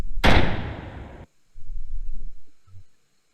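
Single tank projectile explosion in a multiplayer tank video game, a sudden loud close blast with a broad crackling burst that cuts off after about a second, followed by quieter low rumbling thumps.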